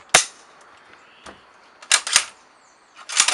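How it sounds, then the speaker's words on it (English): A Mosin Nagant rifle bolt is slid home and the trigger pressed, giving a series of sharp metallic clicks and clacks close up, spaced irregularly against near silence. "So when you slide it back into your rifle, you press the trigger, slide it in, and it should be ready to rock and roll."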